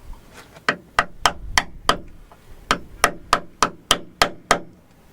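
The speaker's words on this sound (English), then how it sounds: "You know you mean business when you get a cold chisel and the hammer's out." A hammer strikes a cold chisel on a steel boat, about a dozen sharp metallic blows in a steady rhythm, close and clear with a short pause partway through.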